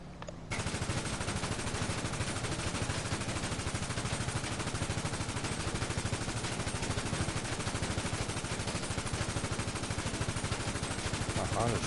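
Draco rifle gunfire in GTA 5, a continuous loud rapid stream of automatic shots running nearly the whole time after a brief quiet start.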